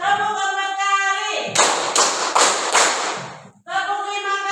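Classroom game: students clap in short bursts, several quick loud claps grouped together between spoken instructions, with a voice talking before and after.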